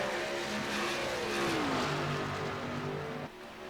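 Race car engines in a Ford 200 championship racing video game drone and rev steadily at mid pitch, one whining upward then falling as it passes, continuous and fairly loud before dropping off near the end.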